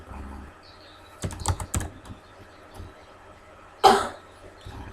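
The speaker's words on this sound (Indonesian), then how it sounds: "kita langsung ngetik aja di Google" A computer keyboard being typed on to enter a search into Google: a short burst of quick clicking keystrokes with a couple of heavier taps, then a louder thump or cough-like sound, close and fairly quiet.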